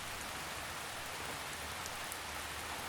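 Heavy rain pours steadily in a dense, even hiss, close and continuous with no voices or other sounds.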